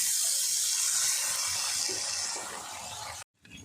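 Water poured into a pan of tak bhendi (sour okra) curry, a steady broadband hissing rush that runs for about three seconds, eases slightly, then stops abruptly with a brief faint trickle after.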